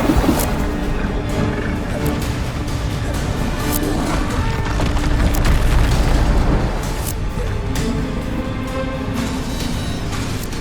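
Bombarda spell blasts in the game Hogwarts Legacy: loud, booming explosions with crashing debris and rumbling impacts, layered densely over a sustained low roar.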